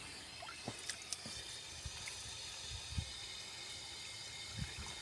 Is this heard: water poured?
yes